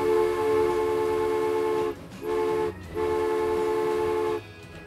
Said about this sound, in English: these trains are actually, this train's moving for the first time